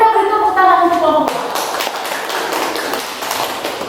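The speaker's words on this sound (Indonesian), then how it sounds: "Kita beri tepuk tangan untuk kelompok." After a group presentation, a class claps for the group. The applause is loud and scattered at close range and comes in after a short stretch of talk.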